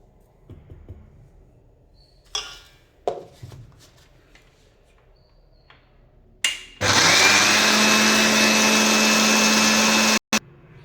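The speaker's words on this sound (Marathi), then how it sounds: "असं चालू बंद करत आणि खालीवर करून घ्यायचं आहे चमच्याने म्हणजे छान बारीक दळल्या जाते" A mixer grinder grinds coriander into powder, first in a few short pulses with pauses between, then running steadily and loudly for about three and a half seconds before stopping abruptly.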